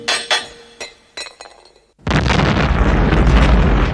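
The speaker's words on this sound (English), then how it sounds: "80s Batman believes in killing, guns, and Looney Tunes style explosions." An explosion from a fiery action scene in the 1989 Batman film, starting with scattered clinks and pops that give way to a sudden loud blast and a sustained roaring rumble of fire and debris.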